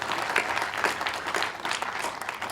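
Audience applause at the 2017 Governor's Fishing Opener event, a steady dense wash of many hands clapping at fairly even loudness throughout.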